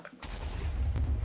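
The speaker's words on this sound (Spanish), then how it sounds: "La explosión." An explosion in the Minecraft video game, a sudden deep boom that rolls into a loud low rumble, with a sharp burst near the end.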